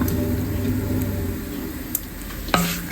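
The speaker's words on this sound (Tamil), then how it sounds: "சிம்மில் வச்சு வதக்கியிருக்கேன்" Curry leaves, garlic and tamarind sautéing in a pan over a low flame for murungai keerai thuvaiyal, giving a steady close sizzle with a spoon stirring and a few sharp clinks near the end.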